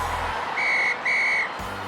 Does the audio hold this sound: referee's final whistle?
yes